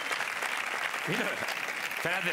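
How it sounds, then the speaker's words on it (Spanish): Applause for the technical and artistic crew of the late-night show La Resistencia, filling a brief moment at steady volume while someone speaks over it. "un aplauso para el equipo técnico y artístico de la Resistencia"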